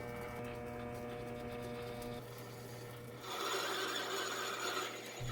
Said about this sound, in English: I'm going to mark up the end here for length and part it off